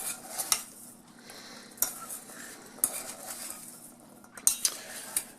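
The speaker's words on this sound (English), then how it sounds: "there's a little extra coating to it, so I'll keep stirring it" A utensil stirring coated garbanzo beans in a pan, with soft scraping and irregular metallic clinks against the pan over a faint sizzle, fairly close and with no speech.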